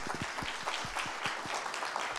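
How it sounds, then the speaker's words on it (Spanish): Audience applause at a talk on rental law: dense, steady clapping from a room of people, moderately loud, continuing without pause through the whole stretch. "Un fuerte aplauso al doctor Irigoyen."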